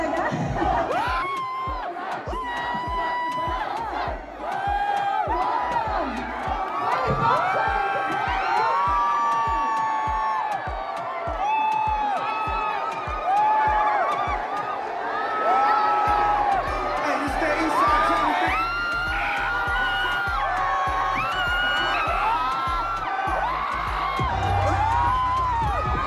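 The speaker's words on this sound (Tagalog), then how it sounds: "Ang dami yun, naghihaw yung mga tao" A large crowd at a basketball event in Manila cheers and shouts continuously, with loud whoops and overlapping voices sustained throughout.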